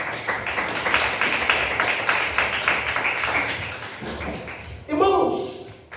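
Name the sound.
congregation clapping hands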